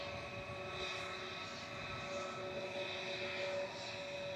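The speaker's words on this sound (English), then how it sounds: "There goes Lady Emmeline lifting off" Airliner Lady Emmeline lifting off from Manchester Airport bound for Florida, a fairly faint, sustained engine roar with a steady whine running through it, heard at a distance without talk.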